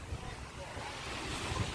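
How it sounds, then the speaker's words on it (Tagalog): Steady roar of ocean surf with wind buffeting the microphone, waves rumbling continuously close by at a beach in Calatagan, Batangas. "Ang lakas ng alon."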